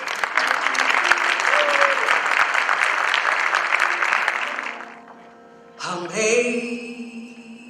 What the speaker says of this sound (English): Let's give a round of applause for our new teachers.